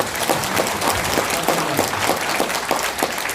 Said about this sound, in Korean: 박수 한번 크게 한번 치시죠